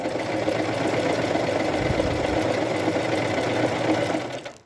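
Sewing machine running steadily at speed, stitching a rolled hem with a rolled hem foot, a continuous close whirring drone that holds for about four seconds before stopping abruptly.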